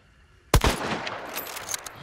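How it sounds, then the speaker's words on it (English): A single sharp video game gunshot cracks out loud and close, followed by a ringing, decaying tail with a few faint clatters over roughly a second and a half. "I have the last bullet, so I'm just gonna shoot it"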